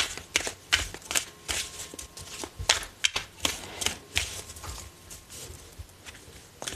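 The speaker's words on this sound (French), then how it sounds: "On va tirer 4-5 autres cartes conseils" Oracle advice cards are shuffled and drawn, heard close up as quick riffling, papery flicks and soft taps in uneven bursts, with no voice.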